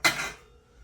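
A metal steamer rack set into a hot-pot pot, a single sharp metallic clank that rings and fades quickly, close and alone.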